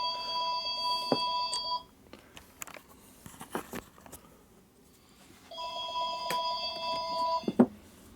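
A telephone rings twice in a workshop beside a 1920s drill press, each burst a rapid electronic trill lasting about two seconds, separated by a quiet gap with faint clatter.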